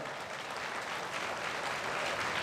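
Dense, steady applause from a large audience at a Hindu temple consecration festival, honouring the saints; continuous broadband clapping with no gaps, fairly loud and even throughout.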